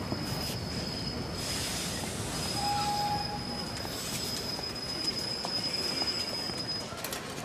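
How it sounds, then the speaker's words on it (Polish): A train pulls into a Warsaw railway station with continuous loud rumbling, wheel squeal and a thin, high metallic screech that comes and goes, heard without talk. "Przecież twój pociąg przychodzi na dworzec gdański."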